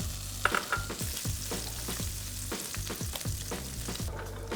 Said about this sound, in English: Oil is hot now. I'm gonna drop the spam.